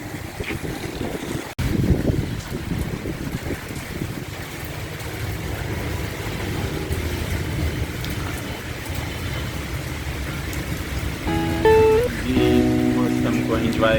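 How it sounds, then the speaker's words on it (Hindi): Steady rain falling in Islamabad, a dense, constant hiss close by that runs the whole way through, with a brief tonal sound joining near the end. "आज बहुत ही अच्छी बारिश हो रही है"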